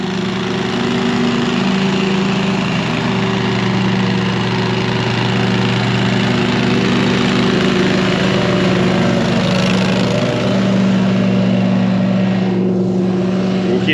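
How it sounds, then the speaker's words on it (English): A lawn mower runs steadily at close range and picks up yard debris, its engine drone staying loud and constant throughout with a faint rushing of material, and no voices over it. "Now he's picking it up with the mower too."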